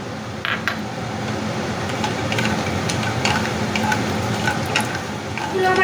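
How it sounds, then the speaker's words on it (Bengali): Lentil badi, about ten to twelve of them, frying in hot mustard oil in a pan, giving a steady dense sizzle with bubbling crackle throughout, loud and close. "আমি এবার সর্ষের তেলের ভেতরে দিয়ে আমি হালকা করে লাল করে ভেজে নেব।"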